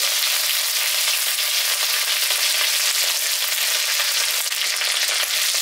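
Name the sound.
dried red chillies frying in oil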